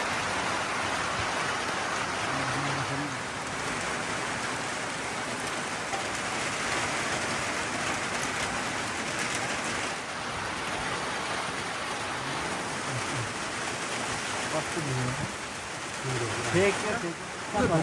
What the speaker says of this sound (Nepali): आज ठुलो पानी पर्यो